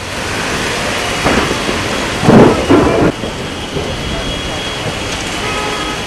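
Heavy monsoon rain pours in a dense steady roar while thunder rumbles loudly through the middle of the storm.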